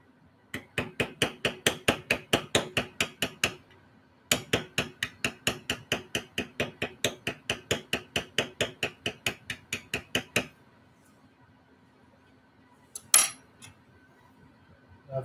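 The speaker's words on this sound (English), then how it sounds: "got a smaller beveler here, and we're going to start right here." A small leather beveler is struck on leather in two long runs of quick, evenly spaced sharp taps, close and crisp, followed after a pause by a single metallic clink.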